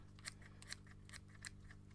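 Scissors snipping fly-tying material on a crayfish fly held off the vise, four or five crisp close cuts spaced irregularly over a low steady hum, no voices.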